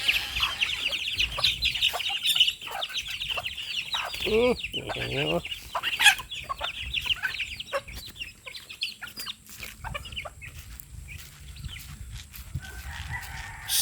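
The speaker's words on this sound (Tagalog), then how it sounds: "Patukain ko muna yung mga manok ko." Backyard chickens cluck busily and steadily at feeding time, with a rooster-like call rising among them, close by and fairly loud, while someone speaks briefly over the flock.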